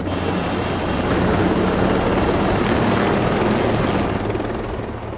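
Helicopter in the video game Ghost Recon Breakpoint, a loud, close, continuous rotor and engine roar holding steady for several seconds, then easing slightly at the end.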